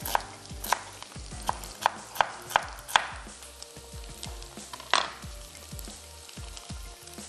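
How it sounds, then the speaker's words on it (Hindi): Beef, onion and vegetables frying in a pan, a loud, close, continuous sizzle punctuated by sharp rhythmic knocks of a utensil stirring and tossing, a harder clatter near the middle, no voices. "आप इसमें कुछ मिनट्स पहले वेजिटेबल्स ऐड कर दें और दोनों चीज़ें साथ में फ्राई हो जाएंगी"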